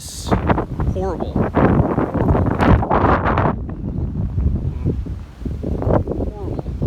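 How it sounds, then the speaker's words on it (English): Strong, gusty wind in the aftermath of Hurricane Ian at Bonita Beach, roaring and buffeting a nearby microphone continuously, with a person talking over it. "We're still gusting probably about 30, 35. So it's not, it is blurry blustery"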